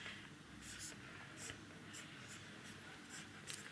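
Chalk or marker scratches across a classroom board in short, quiet bursts during a chemistry lesson on carboxylic acids, set against steady hiss and a faint murmur of voices.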